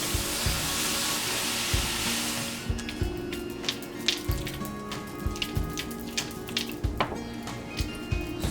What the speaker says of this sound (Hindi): फिर ऐड कर रहे हैं थोड़ा थोड़ा करके मिल्क।